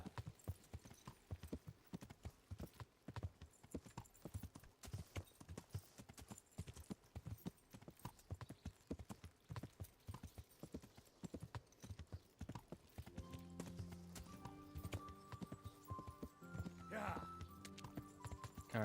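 Horse hooves clip-clop steadily and close in the medieval video game Kingdom Come while riding, a continuous rhythmic patter with musical tones joining in over the last few seconds.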